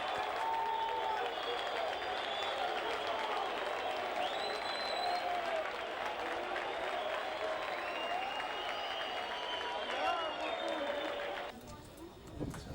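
Football crowd roaring and applauding as Shkendija supporters celebrate Asani's late goal for a 3-1 lead, a dense sustained wall of cheering and clapping with whistles above it that drops away abruptly near the end.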